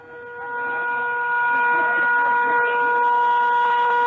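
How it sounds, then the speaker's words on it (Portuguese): Car horn sounding in a city street during a Rio de Janeiro news report, a steady sustained honk held for several seconds, loud and close over low street noise. "essa é a buzina do carro"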